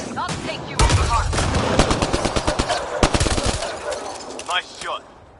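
Rapid automatic gunfire in the sci-fi shooter game Mass Effect Andromeda, loud bursts of shots and impacts with brief gaps, mixed with game effects and a short spoken line near the end.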